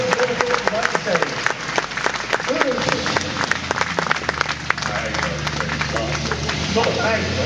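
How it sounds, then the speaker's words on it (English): A live motor-show crowd in an arena claps for a truck with a burst of sharp, scattered applause, while a low engine idle hums underneath and voices cut in partway through. "ladies and gentlemen, a round of applause for the well-sponsored truck"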